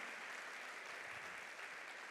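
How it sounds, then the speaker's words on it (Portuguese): Church congregation clapping, a steady dense wash of applause held at an even level throughout with no pauses or voices standing out. "Então glorifique ao Senhor com as suas palmas aí."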